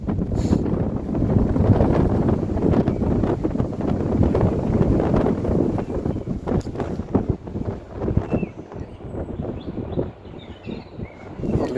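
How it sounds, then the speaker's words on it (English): Strong wind buffets the microphone on an exposed cliff summit in the Peak District, a loud, continuous rumble with gusty surges and no voices. "I'm sure the wind will kill this audio"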